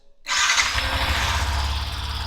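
A Yamaha XSR 125 motorcycle engine starts abruptly after a brief silence, catching with a loud, deep rumble that settles into a steady, close throb.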